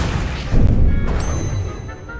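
Incendio fire spell cast in Hogwarts Legacy, a loud burst of booming, crashing flame that swells after half a second and roars steadily before fading.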